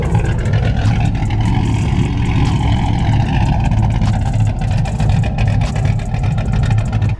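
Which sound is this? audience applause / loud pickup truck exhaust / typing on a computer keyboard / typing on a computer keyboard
loud pickup truck exhaust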